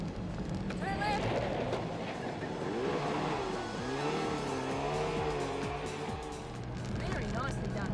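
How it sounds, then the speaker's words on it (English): A tiny Goggomobil, the smallest car in a charity rally bash, drives along with its small engine droning and shifting pitch, accompanied by varying tones and chatter from the occupants. "The car is going as good as a Goggo can go."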